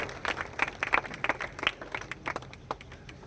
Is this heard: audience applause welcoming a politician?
yes